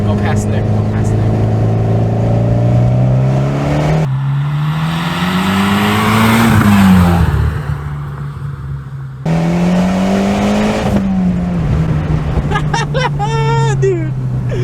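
A Mitsubishi Evo X GSR drives and accelerates, its engine rising in pitch through the gears with shift breaks, loud and close from inside the car, with people talking over it near the end.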